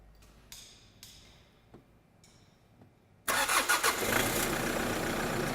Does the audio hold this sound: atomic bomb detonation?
no